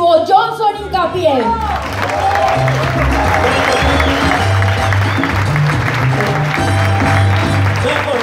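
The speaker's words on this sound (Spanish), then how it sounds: "quiero que me ayuden a recibir con un muy fuerte aplauso al diamante ejecutivo Johnson Hincapié" A crowd at an evening event in Pereira gives loud, sustained applause welcoming executive Johnson Hincapié, steady clapping that fills the room after a short stretch of music and voice.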